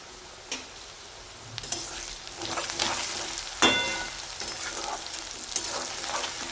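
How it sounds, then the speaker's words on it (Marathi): Chopped onion sautés in hot oil with asafoetida for a Khandeshi eggplant bharit, a bright, continuous sizzle punctuated by stirring scrapes and a few sharp utensil clicks, close and without speech. "एक मिनटं चांगलं आपण कांदा तेलामध्ये परतून घेऊ"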